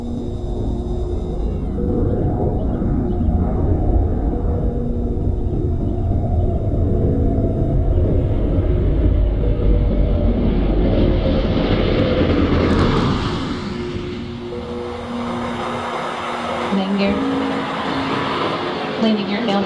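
An aircraft descends to land at about 370 mph, piloted by Jim Dutton, producing a loud, continuous roaring rumble that shifts in tone and eases off toward the end.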